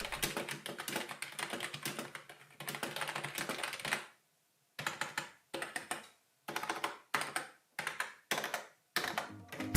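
Keys clatter on a Logitech G213 gaming keyboard, first in quick continuous bursts, then in short separated runs with pauses between them, crisp and close.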